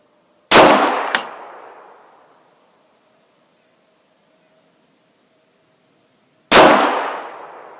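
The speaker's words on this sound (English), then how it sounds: "go ahead and put a few more down range on that silhouette target" Two loud handgun shots from a Glock, several seconds apart, each strike a steel silhouette target that rings out in a long, fading metallic decay.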